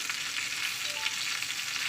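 Steady, dense sizzle of pointed gourd frying in oil in a pan, close and continuous with no talking.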